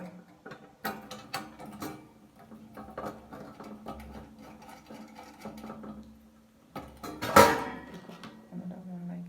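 Intermittent clicks, scrapes and metallic ratcheting as a knob is screwed into a metal plate rack by hand, close and fairly quiet, with short pauses and one louder clatter near the end.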